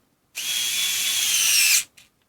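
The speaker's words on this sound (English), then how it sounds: "Now let's go reversing." A TONE hybrid USB-charged electric screwdriver (CHD221S) runs in reverse with a loud, steady, high-pitched motor whine for about a second and a half, then cuts off with a short trailing whir.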